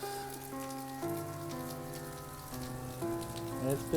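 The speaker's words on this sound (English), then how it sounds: "It's been raining like this for about an hour with the thunder and the lightning." Rain pours steadily on the Buffalo River Trail near Ponca, Arkansas, a faint hiss of drops beneath a quiet tonal hum.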